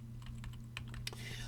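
Bracket keys on a computer keyboard pressed repeatedly to resize a digital brush tip while illustrating, a quick run of close, crisp clicks over a steady low hum.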